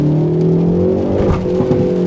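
A 2019 Hyundai Veloster N engine accelerates hard, loud and close, a throaty, steady rising drone lasting about two seconds with no voices.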